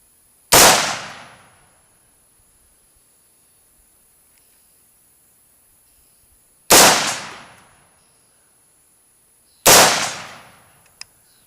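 Three sharp, loud AR-15 5.56 rifle shots ring out alone, fired through a custom bottle-opener muzzle brake, each a hard crack with a quick decaying tail, spaced several seconds apart.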